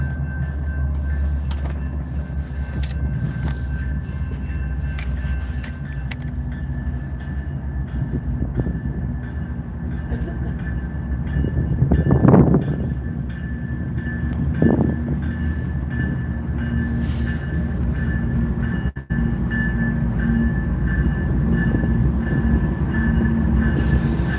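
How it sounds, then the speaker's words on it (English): A train passes on a city street, a loud continuous rumble and clatter with wheels squealing in a couple of shrill swells midway, heard close by. "Let's check the train."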